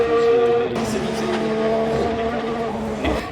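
Formula 1 race car at the Monaco Grand Prix in Monte Carlo, a loud high-pitched engine whine with shifting tones and a burst of tire squeal, close and steady throughout with no talk over it.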